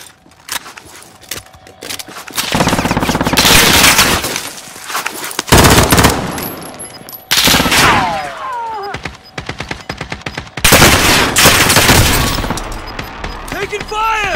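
Bursts of automatic gunfire in Call of Duty: Warzone, loud and close, coming in long rattling volleys broken by short pauses and sharper single shots, with voices calling out over the fighting.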